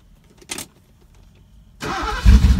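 A 1981 Mercedes 380SL starts after a brief click, its engine cranking, catching and then running loudly up close, with no talk.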